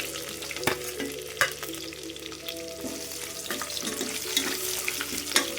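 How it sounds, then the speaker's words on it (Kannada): Onions and green chillies frying in oil, a continuous crackling sizzle with occasional louder pops and stirring scrapes, close and steady throughout. "ಈಗ ಈರುಳ್ಳಿ ಮತ್ತು ಮೆಣಸಿನ್ಕಾಯಿ, ಹಸಿರು ಮೆಣಸಿನ್ಕಾಯಿ ಎರಡನ್ನೂ ಒಟ್ಟಾಗಿ ಸೇರಿಸಿ ಎಣ್ಣೆಯಲ್ಲಿ ಫ್ರೈ ಮಾಡ್ಕೊತೀನಿ."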